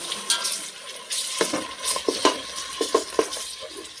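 Onions with ginger garlic paste sizzle in a pot while a spoon stirs and scrapes through them, giving a steady frying hiss broken by repeated close clanks and scrapes.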